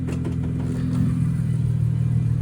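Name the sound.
Infiniti Q60 Red Sport engine exhaust burble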